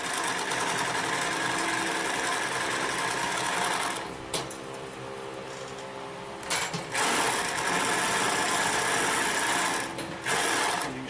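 Consew 227R-2 cylinder arm walking foot sewing machine stitching over thick layered seams, a close rapid mechanical clatter in bursts with short pauses between runs.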